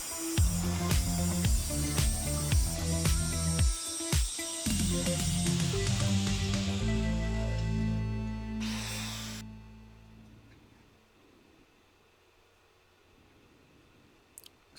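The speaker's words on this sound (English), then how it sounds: "I can just get the grinder and take off some of the forge scale" A belt grinder takes forge scale off knife blanks with a loud, close whine and rasping grind, broken by brief pauses. The machine then winds down into a fading hum, leaving quiet near the end.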